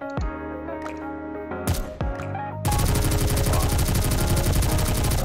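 Rapid automatic gunfire from the character 2B in the game Goddess of Victory: Nikke, a few separate shots first, then a loud, dense, continuous stream of shooting with no talking.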